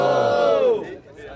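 A loud crowd at a rap battle semifinal roars and shouts together, a sustained burst of yelling that peaks and then fades into scattered voices.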